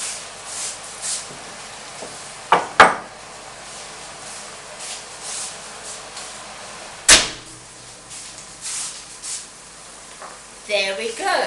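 A tray of roast potatoes comes out of a kitchen oven: two sharp, close metallic clanks a few seconds apart over a quiet room, with a faint clatter at the end.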